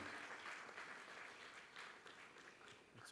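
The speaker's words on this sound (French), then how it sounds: "Je vous demande d'applaudir chaleureusement nos intervenants" An audience at a hydrogen conference panel in the Rhin-Meuse region applauds the speakers: dense, steady clapping from many hands, fairly distant, sustained throughout.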